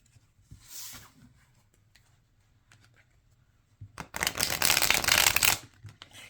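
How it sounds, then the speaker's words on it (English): A winter-themed tarot card deck is shuffled up close, with faint soft card handling at first, then a loud burst of riffling and fluttering cards lasting about a second and a half. "Let's do a shuffle so you can see what it shuffles like."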